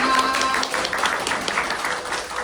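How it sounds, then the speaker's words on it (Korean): An audience applauds a director at a seminar, a steady wash of clapping throughout with a faint tone and some voices mixed in. "원장님께 큰 박수 한번 부탁드리겠습니다."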